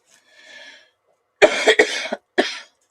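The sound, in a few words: coughing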